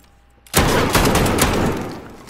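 Sustained automatic MP7 gunfire in a video game firefight, a dense rapid burst that kicks in loudly after a brief quiet moment and rattles on steadily without voices.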